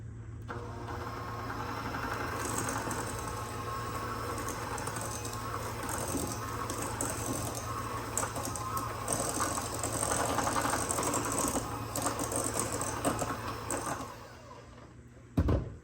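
An electric mixer runs on high, beating chocolate chip cookie dough in a steady, continuous motor whir with a constant low hum, close and loud, with no talk.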